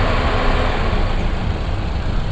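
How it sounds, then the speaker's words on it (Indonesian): A high-mileage Suzuki Ertiga car engine idling in a mall car park, a steady close rumble with broad noise, no speech. "Dan ini suara mesinnya guys tuh, masih suara-suara normal."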